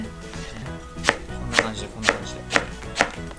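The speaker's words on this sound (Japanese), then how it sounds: "ナスなんかすごいサクサク切れる" A knife slices through eggplant onto a cutting board, five crisp evenly spaced cuts, close and clear with no talking.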